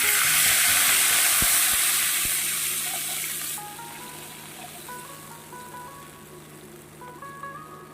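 Cumin seeds and two chilies sizzle loudly in hot oil for a hilsa and eggplant curry. Midway, water is poured in and the crackling frying drops to a softer bubbling simmer, close up with no talking.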